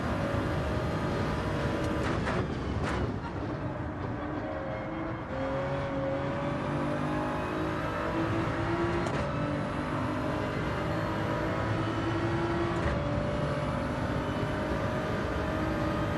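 Race car engine in Gran Turismo 7 running hard in a slipstream, a continuous high whine with gear shifts sliding the pitch up and down, loud and steady with no talking.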